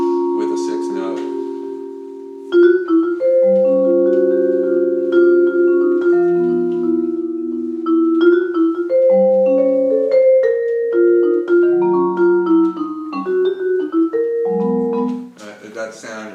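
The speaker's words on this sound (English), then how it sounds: "It's a minor triad with a 6th note." Minor sixth chords played on a tri-chromatic keyboard, sustained notes sounding clearly and close in a series of chord changes, with short breaks between phrases.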